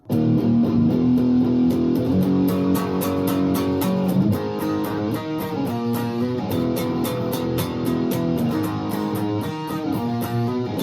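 A distorted electric guitar riff repeating over a driving band with steady, crisp hi-hat ticks, loud and continuous throughout; the riff from the bridge of a song.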